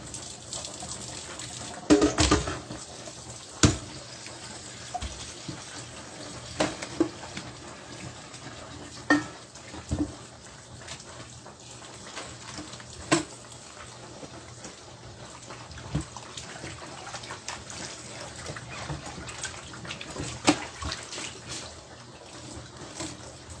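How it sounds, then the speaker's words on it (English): Running water splashes while meat is rinsed in a kitchen sink, a steady close wash of noise broken by scattered clunks and knocks of handling. "we are going to rinse our meat again"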